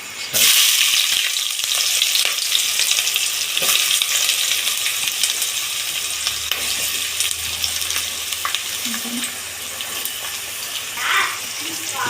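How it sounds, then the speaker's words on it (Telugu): Onions and green chilies frying in oil for tomato rice, a continuous loud hiss of sizzling oil with occasional stirring clatter, heard alone. "ముందు ఎర్రగడ్డ పచ్చిమిర్చి వేద్దాం"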